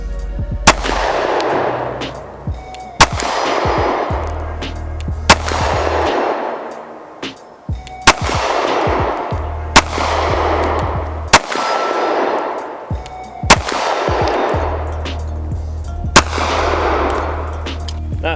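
An STI Staccato C pistol fires at a target about 40 yards away, with eight loud, sharp gunshots at slow, steady intervals, each followed by a ringing metallic ping from the steel target and a brief echo.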